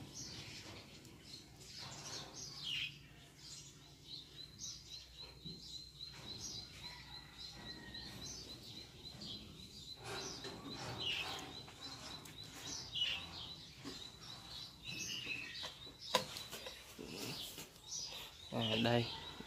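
Small birds chirp at a nest where eggs have just hatched; faint, high, scattered calls sit under a voice speaking.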